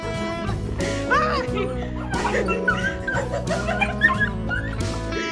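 A dog whimpers and yips in excitement as its owner returns home from two months away at college, high whines rising over a busy mix of voices and background music throughout.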